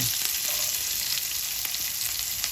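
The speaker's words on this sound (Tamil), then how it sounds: "ஓகே, வெங்காயம் இந்த எல்லாம் வதங்கி வந்துடுது" Onions and curry leaves sautéing in hot oil for a snake gourd curry, giving a dense, even hiss of frying close up with a few faint stirring ticks and no voices.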